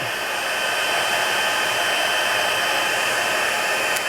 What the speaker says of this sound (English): after your embossing tool is warm, it goes much faster